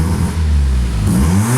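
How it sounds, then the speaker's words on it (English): A Mazda RX-7 rotary engine with MegaSquirt engine management and ignition advance trouble is given one quick rev, a loud close buzz rising and falling over under two seconds, with no talk. "I'll give it a quick rev and you'll see the tach doesn't move at all."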